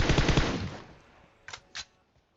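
Gunfire from an AWM sniper rifle in the game PUBG: a loud rattling burst fades out, then two short sharp shots follow in quick succession, with no talk.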